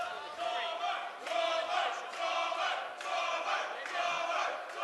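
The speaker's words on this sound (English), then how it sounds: "you hear the crowd chanting Thomas as he's now being rolled over" Fight crowd at a grappling bout between David McCallum and Alan Thomas chants in a rhythmic, repeating pattern of about four swells, sounding somewhat distant and moderately faint.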